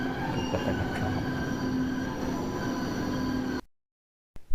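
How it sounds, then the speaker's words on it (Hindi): A small two-car tram rolls along Park Street in Kolkata, a steady close rumble of wheels on rails with faint squealing; the running noise stops abruptly near the end, then briefly returns. "एक छोटी सी 2 डब्बे वाली ट्रेन, कोलकाता का ट्राम।"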